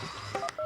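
Telephone keypad dialing tones sound in quick succession, a few short clear beeps close up over a low background hum.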